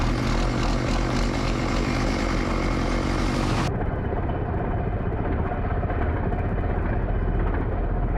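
A crop duster airplane flies past, producing a steady, loud engine roar. The roar drops to a duller, muffled rumble partway through and keeps going to the end.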